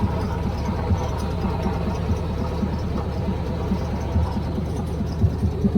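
A 1981 Camaro Z28 engine on a test run after the front end was reassembled, running steadily at idle with an even low rumble and faint ticking, close and continuous, no talking.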